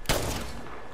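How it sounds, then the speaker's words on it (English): In Apex Legends, enemies open fire in a sharp, loud burst of gunshots that rings briefly, then fades into a short echoing tail. "Oh, they're over there, they're shooting."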